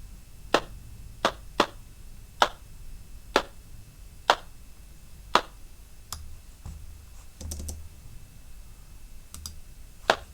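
A dry, sharp clap sample in an electronic track, struck about a dozen times in a loose rhythm, each hit short and crisp with a quick decay, played alone with nothing underneath.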